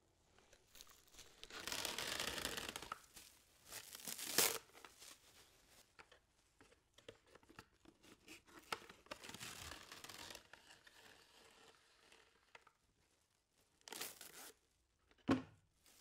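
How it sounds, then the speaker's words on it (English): Kitchen cling film is pulled off the roll and laid lengthways over a burn, giving soft crinkling, rustling bursts with quiet gaps between them and a sharp tearing rip near the end. "cover it lengthways with cling film, get rid of the first 2 turns of film, and then apply it lengthways over the burn"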